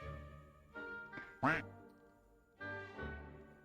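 A duck quacks in the Hogwarts Legacy video game, with a series of nasal quacks in short bursts over a soft ambient background and no talk.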